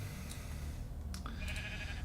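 A Minecraft sheep gives a few short bleats over steady low game background noise, with two quick calls and then a longer wavering bleat.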